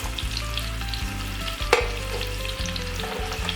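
Tomato and peas sizzling in a hot frying pan for a potato curry, a steady loud frying hiss with scraping stirs and a sharp clink midway, no voices.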